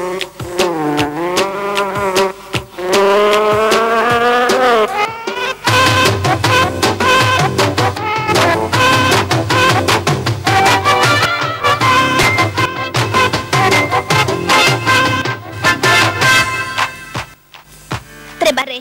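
A cartoon mosquito sings a buzzing, vocal-style song in a children's animated series, a continuous melodic drone with rhythmic pulses and pitch glides throughout, loud and close with musical accompaniment.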